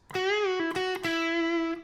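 A distorted electric guitar plays a short phrase from a solo, with a note on the third string bent up and back before settling into a sustained tone.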